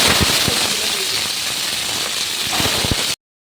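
Heavy rain pours on a morning downpour, a dense, steady broadband hiss with occasional soft thumps that stops abruptly before the end.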